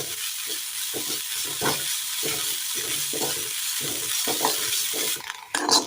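Grated coconut frying in a pan for a crispy snack, with a constant sizzle over repeated rhythmic scrapes of a spoon stirring it. A brief rattle follows near the end.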